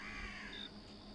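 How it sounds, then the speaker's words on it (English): A crow caws in the game Paradise Falls, a single harsh, raspy call standing out against a quiet ambient background, short and fairly faint. "Well, of course there's Crows here."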